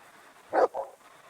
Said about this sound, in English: I'm just feeding my dog